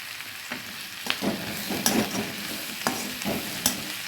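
Curry leaves sizzle and crackle in hot oil, with steady frying hiss and sharp pops scattered throughout.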